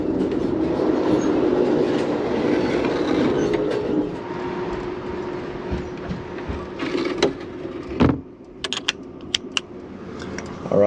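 An Amtrak Superliner train rolls along the rails on the City of New Orleans route to Chicago, heard from inside a roomette as a loud steady rumble that thins out, followed by scattered sharp clicks and knocks.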